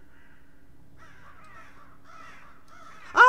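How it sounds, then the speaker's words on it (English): Crows caw in a bleak outdoor scene from the horror game Saint Kotar, faint scattered calls over a low ambient drone, ending in a sudden loud harsh cry. "Damned crows!"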